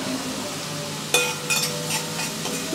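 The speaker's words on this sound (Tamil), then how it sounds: "பச்சை மிளகாய் போட்டுக்கலாம்." Onions and green chillies frying for salna, a steady sizzle with a few louder stirring scrapes and clinks of a utensil against the pan.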